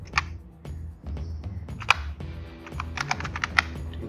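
Keys clatter on a computer keyboard while HTML code is typed, a close series of uneven clicks and taps over a low background hum, with a few louder key strikes.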